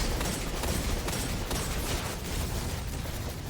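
Gunfire in Destiny 2, a dense, steady roar of shots and explosions blending into continuous noise at constant loudness throughout.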